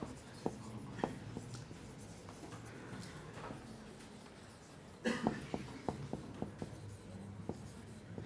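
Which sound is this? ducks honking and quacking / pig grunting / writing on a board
writing on a board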